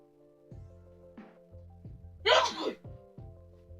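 A single sharp sneeze bursts out mid-clip beside a farming video game, with someone talking before and after and steady in-game tones droning underneath.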